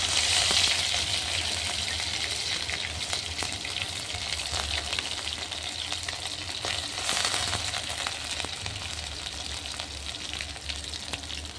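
Ground onion paste is added to oil in a pan, giving a loud, continuous close sizzle with a dense frying hiss that holds steady throughout, with no talking.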